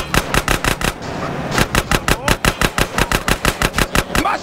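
Rapid automatic gunfire rattles from a car during a drive-by shooting in Grand Theft Auto: San Andreas, loud repeated bursts with a short pause before a long steady volley.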